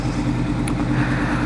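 A warmed-up motorcycle engine idles close by with a steady, even low rumble that holds without a break, and no one speaks over it.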